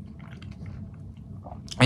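Close chewing of a crunchy baguette Sicilian chicken slider with saucy filling, soft steady mastication and crunching sounds, followed by a brief louder burst at the end.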